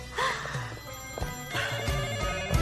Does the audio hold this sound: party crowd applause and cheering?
no